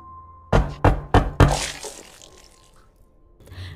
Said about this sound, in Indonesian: Tiba-tiba ada yang ngetuk pintu lagi dong.